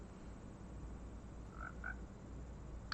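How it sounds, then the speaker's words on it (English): Frogs in the Minecraft video game croaking, two short croaks close together, heard faintly over a steady ambient background with no talking. "any nearby frogs will follow you to the end of the island"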